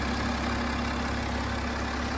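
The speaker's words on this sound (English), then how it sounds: "So this is the 254/258 brake horsepower, straight 6 twin power turbo diesel engine." BMW 330d M Sport Touring's 254/258 bhp straight-six twin-turbo diesel idling under a raised bonnet, a steady, even low rumble with constant broadband hum and no speech.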